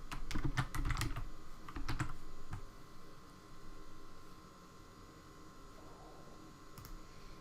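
Keyboard typing to search for GIFs in the Flipgrid camera: a fast, close run of clicky keystrokes in bursts, then a few scattered taps over a steady low background hum.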